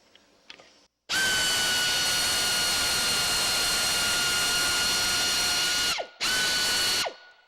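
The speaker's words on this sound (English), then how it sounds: "We reverse the air ratchet." A pneumatic air ratchet spins in reverse with a loud, steady high-pitched whine for about five seconds, drops out briefly, then gives one shorter burst before stopping; the setting is a close, quiet workshop.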